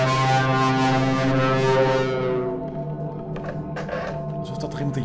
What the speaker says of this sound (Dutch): Alsof dat er iemand in je oor staat te toeteren.